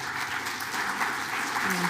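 An audience applauds a planning committee at a Black men's wellness town hall, a steady wash of clapping at moderate level with speech mixed in beneath it.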